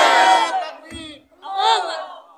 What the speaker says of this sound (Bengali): তাকবীর হবে না একটা?